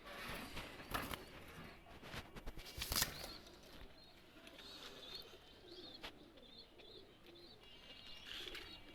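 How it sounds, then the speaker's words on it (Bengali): Pakistani high flyer pigeons are released nearby, with a few sharp wing flaps early on, followed by soft, faint cooing and rustling over quiet outdoor background. "দুইটা কবুতর ছেড়ে দেখাচ্ছি আমি"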